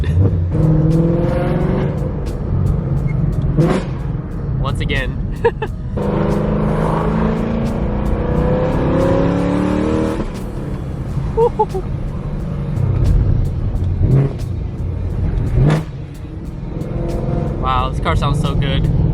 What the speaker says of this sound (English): I can't be the only one that rev matches into neutral, right?